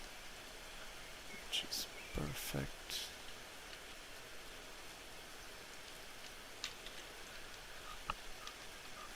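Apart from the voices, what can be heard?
rain in the video game Escape from Tarkov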